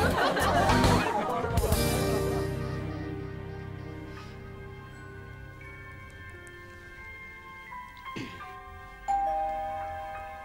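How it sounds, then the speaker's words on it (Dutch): A doorbell chimes in a sitcom-style scene, sounding as a bright ding-dong with ringing tones that linger, amid chatter and laughter. "De bel gaat."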